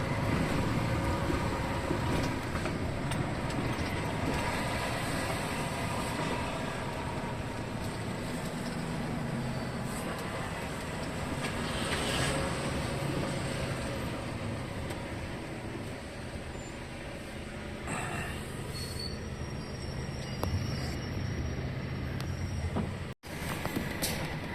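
Aboard a ship at sea in rough waves, a steady broadband rush of wind and water fills the whole stretch, loud and continuous with a brief dropout near the end.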